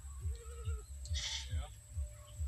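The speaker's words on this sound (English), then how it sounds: "It's a big goat" A big goat bleating outdoors on a property, a wavering call heard briefly amid a steady low rhythmic thumping, with people talking nearby.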